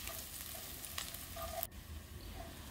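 Chopped garlic stir-fries in a wide wok as filling for steamed bacang dumplings. A steady low sizzle runs throughout, with a few scraping stirs and a sharp clack near the middle.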